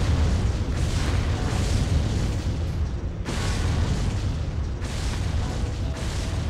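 Continuous rumbling explosions in the PS2 game Silent Line: Armored Core, loud and dense, with layered booms and blasts rolling one after another.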